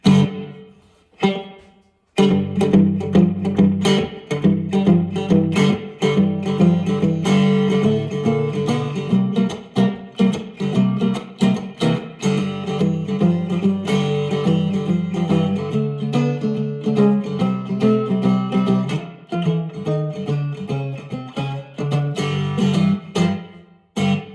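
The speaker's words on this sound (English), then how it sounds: "This is called spring." Electric guitar, a cigar box guitar, playing chords and notes through a springy, splashy spring reverb that lingers after each strum, continuous and fairly loud.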